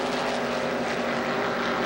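A NASCAR stock car engine running rough during the 1979 Daytona 500 gives a steady, loud droning roar with no break and no voices.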